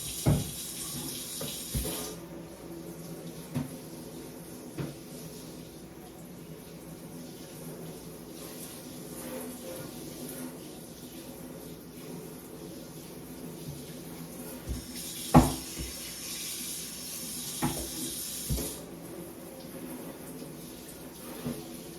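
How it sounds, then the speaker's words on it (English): A kitchen tap runs steadily as items are rinsed during stovetop popcorn making, a soft continuous stream with a few clinks and bumps from handling and brief surges in flow. "Let me just rinse off. Let me rinse off this first."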